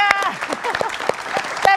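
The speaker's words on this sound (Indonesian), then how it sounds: "tepuk tangan dulu dong buat Pak Rusli." Brief scattered clapping from a television talk-show audience, several sharp claps under voices talking over them.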